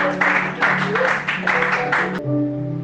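A church congregation applauding and acclaiming the Lord in several loud, surging bursts for about two seconds. The sound then cuts off abruptly to a quieter room.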